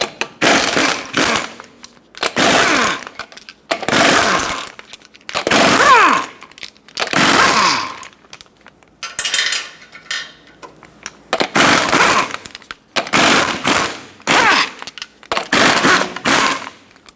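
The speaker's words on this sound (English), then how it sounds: "Use a 21mm socket, remove all 8 lug nuts, and then pull the wheel off." Lug nuts on a 2000-2005 Ford Excursion wheel being spun off with a 21mm socket on a power tool, loud rattling impact bursts in repeated blocks separated by brief pauses, close up.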